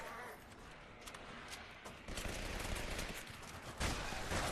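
Gunfire in the video game Legendary from a gun with heavy recoil, rapid continuous shots packed into a dense, loud burst that swells toward the end.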